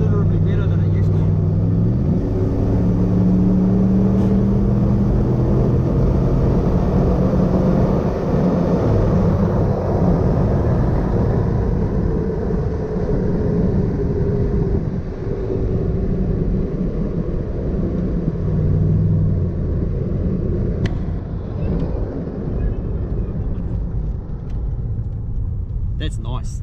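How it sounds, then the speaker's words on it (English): Nissan Patrol with a 6-litre Chevrolet L98 V8, a loud engine drone rising and falling with throttle while driving, heard from inside the cab with people talking over it. "We're out driving the Patrol and it goes considerably better than it used to."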